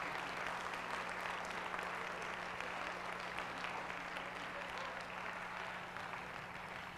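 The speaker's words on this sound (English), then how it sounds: "can we give one more round of applause to the beautiful Brandon University Chorale?" A concert audience applauds a university chorale steadily, a dense wash of clapping hands that holds at an even level throughout with no voices on top.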